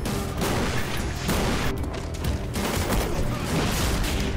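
Grenade blasts in Call of Duty gameplay come as a dense, loud, continuous barrage of booming and crackling bursts with no break through the stretch.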